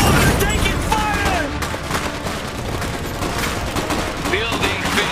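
Gunfire and mortar fire from the real-time strategy game Iron Harvest, with dense rattling shots and booms layered over game voice lines and battle effects throughout.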